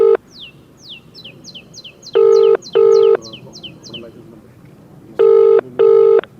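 A telephone ringing back on an outgoing call to a city commissioner: two pairs of loud, steady double rings, with light bird chirping beforehand and faint background noise.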